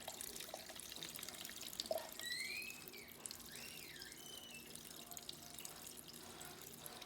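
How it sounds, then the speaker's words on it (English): Tap water runs steadily at a sink while makeup brushes are washed, a soft continuous trickle throughout with faint sharper chirps above it. "I'm washing all my brushes."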